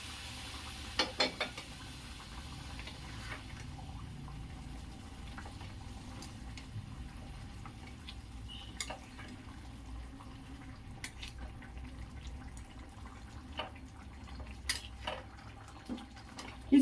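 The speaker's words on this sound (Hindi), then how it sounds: "अब मैं उबले हुए चने को इसमें मिला दूंगी" Boiled black chickpeas are stirred into a pan on the stove for a curry, with a quiet background sizzle and scattered light clinks and scrapes of a utensil against the pan.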